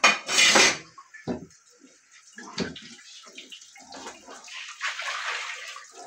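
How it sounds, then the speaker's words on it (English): Water splashes into a pot of beef and peas boiling on a home stove, followed by metallic clinks of the pot and lid being handled, in short loud bursts with quieter gaps between. "I put a little bit more water and cover him down."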